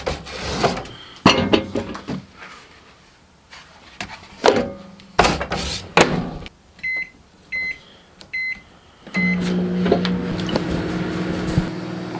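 Scattered knocks and rubbing clatter, then a series of short electronic beeps, followed by the steady low hum of a microwave oven heating food.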